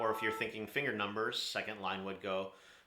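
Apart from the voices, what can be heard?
No distinct noise like a dog, phone or traffic.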